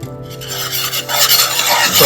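Garlic sizzling in coconut oil in a pot over medium heat, a loud, steady, close hiss that grows slightly fuller as it fries.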